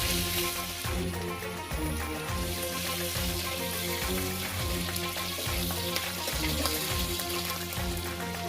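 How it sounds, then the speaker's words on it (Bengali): Chicken roast pieces frying in hot oil, a loud continuous close crackling sizzle with occasional stirring scrapes, no talk. "তেলটা গরম হয়ে গেছে, এখন আমি রোস্টের মাংসগুলো দিয়ে দিব। এখন দিয়ে ভালোভাবে ভেজে নিতে হবে।"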